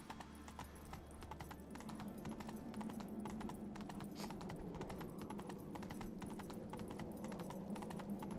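Roach the horse galloping in The Witcher 3, a rapid, steady clip-clop of hooves throughout, fairly close, over a low ambient game background with no talk.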